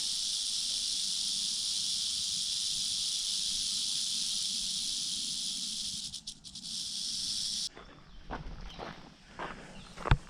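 A rattlesnake on a hiking trail in the Mount Rogers area rattles in a loud, continuous buzzing hiss close by for several seconds, then stops, followed by scuffing footsteps on the trail.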